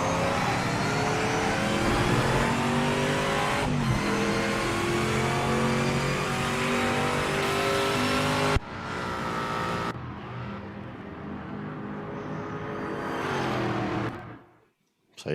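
Corvette engine revving hard in a GT racing video game, a loud sustained roar with rising and falling pitch, cutting briefly, then easing off and fading to near silence at the end.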